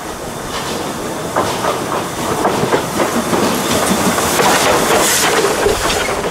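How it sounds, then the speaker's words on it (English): A narrow-gauge train on the Gulbene–Alūksne railway in Latvia rumbles along nearby as it departs, with steady hissing and rhythmic clickety-clack, loud and continuous, building slightly as it moves. "Ferdinand's makes a majestic departure along the narrow-gauge tracks"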